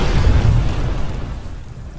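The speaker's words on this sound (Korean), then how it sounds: "다크사이드는 폭발과 함께 사라지고" A deep, rumbling explosion in the Mortal Kombat vs DC Universe story mode as Darkseid vanishes, a heavy boom up front that rolls and fades over a couple of seconds with no voices.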